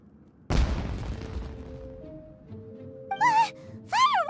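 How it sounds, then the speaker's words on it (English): Fireworks explosion in the video game Genshin Impact: one loud, deep boom crackles and fades over about two seconds, followed by a low hum and two bright, warbling whistle-like effects. "Was that an explosion?"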